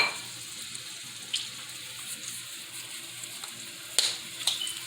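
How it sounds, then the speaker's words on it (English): Turmeric frying in a pot for a green chicken chile white bean soup, a low continuous sizzle with a few sharp clinks and taps of a utensil, no voices. "And we're letting that fry."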